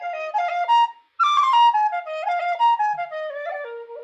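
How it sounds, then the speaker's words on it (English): A tune played on a whistle during a music lesson: clear, bright melodic notes in flowing phrases, broken by one short pause, played alone and close. "It's lovely doing it on the whistle though."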